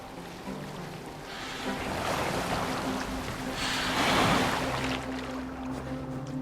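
A Viking longboat glides across open water in Assassin's Creed Valhalla, with a continuous rushing wash of waves and wind that swells louder twice, with no talk.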